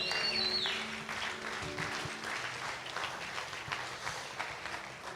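Congregation applauding inside a church during a service, a steady crowd of clapping hands sustained throughout at moderate level, with no talk over it.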